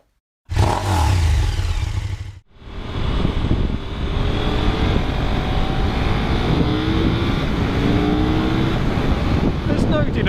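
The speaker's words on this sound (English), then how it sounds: "there's no denying it's a stonking motor" A 2017 KTM Super Duke GT motorcycle engine runs loud and close, a sharp burst followed by a brief cut, then a steady sustained drone with rising revs through the rest.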